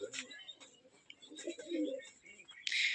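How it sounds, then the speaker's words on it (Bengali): Pigeons coo softly in a loft, with low throaty calls and a few brief chirps, fairly close and moderately quiet. Faint voices can be heard in the background. "চলেন ভাইয়ের কবুতরগুলো দেখি।"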